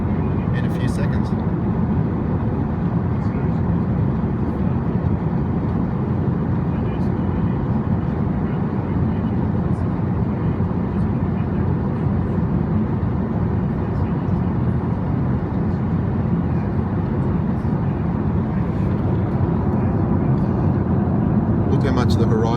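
Steady broadband roar inside an airliner cabin as the plane climbs past 30,000 feet, constant engine and airflow noise throughout with no distinct events.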